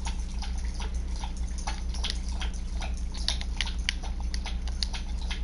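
Quick, rhythmic lapping from a female dog drinking water: repeated wet tongue strokes several times a second, close by and steady over a constant low background hum, without speech.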